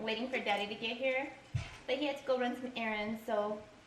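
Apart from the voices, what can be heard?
No distinct noise like a dog, phone or traffic.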